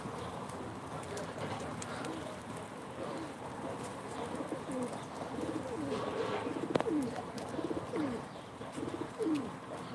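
Pigeons coo softly at a live pigeon auction in Ankara, with a few clear rising coos near the end over a low room murmur and a faint voice.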